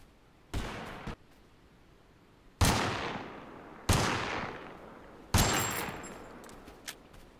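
Four separate loud gunshots from the video game Totally Accurate Battlegrounds, spaced a second or more apart. Each sharp crack is followed by a long, fading echo tail, with no talking.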